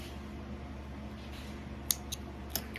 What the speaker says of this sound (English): So now I'm going to cut that off.